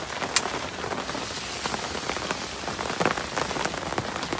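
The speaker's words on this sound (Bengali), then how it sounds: "এতক্ষণ শুধু বাতাস ছিল, এখন আবার বৃষ্টিও নামলো" Rain falling outdoors onto an open-air riverside cooking area, a dense, steady patter of drops with occasional sharper splashes, close and continuous, with no voices.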